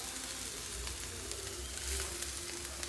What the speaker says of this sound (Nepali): टमाटर राखेर एकछिन चलाएर